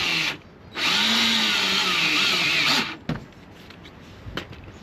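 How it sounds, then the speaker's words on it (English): A power drill bores out the center of a rivet on a Jeep fender flare, whining loudly in one sustained burst of about two seconds, followed by a brief clunk and a few faint clicks. "Drill out the center."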